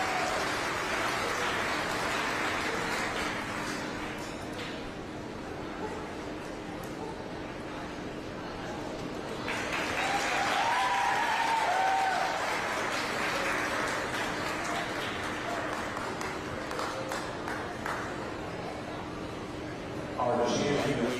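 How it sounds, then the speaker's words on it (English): An audience at a youth fair beef show applauds the exhibitors, a steady crowd patter throughout that swells louder partway through, with a voice over a loudspeaker at times. "Let's give all these exhibitors another round of applause."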